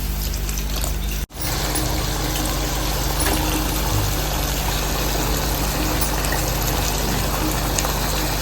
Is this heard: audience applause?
no